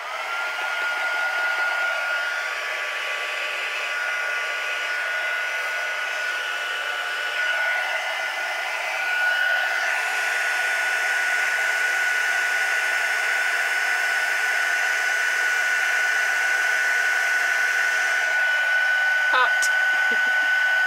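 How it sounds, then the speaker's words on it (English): An embossing heat gun blows steadily over a stamped paper card, a continuous whooshing hum holding at an even, fairly loud level for the whole stretch, with a few faint clicks near the end. "Then we will heat that with the heat tool."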